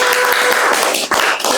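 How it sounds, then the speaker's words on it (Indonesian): An indoor crowd at a Red Cross (PMI) national training event bursts into brief, dense applause, many hands clapping at once at close range. "Tepuk tangan dulu."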